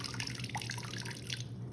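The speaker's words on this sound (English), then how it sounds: "I have a scoop that I can put water through a funnel." Water poured from a scoop through a funnel into a small tub, giving faint trickling and dripping splashes over a low steady hum, quiet and close.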